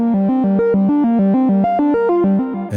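A modular synth sequence played through an STO oscillator module on its own: a bright buzzy tone stepping through a fast, even pattern of repeating notes, loud and close, with no voices.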